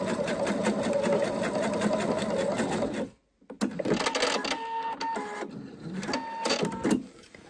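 A sewing machine runs in a steady loud burst while stitching a zippered pouch, halts briefly with the needle down, then resumes in shorter uneven runs.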